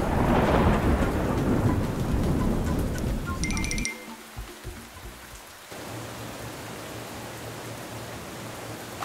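Heavy rain pours loudly, then drops away to a quieter patter with a low rumble of thunder rolling beneath it.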